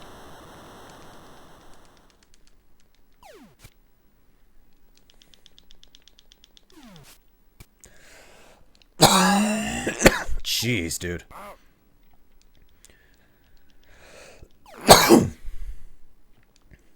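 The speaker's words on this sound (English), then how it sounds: "Man, that cough was insane." A loud, harsh cough bursts out mid-clip, then another sharp cough follows a few seconds later, with quiet noises and a brief spoken remark between.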